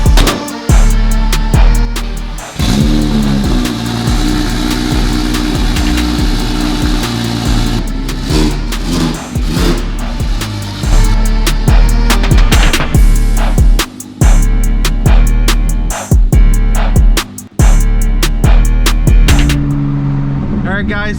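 A 700 WHP single-turbo BMW 335i with its interior stripped drones loudly while cruising, with repeated shifts and surges and rattly clatter from inside the bare cabin.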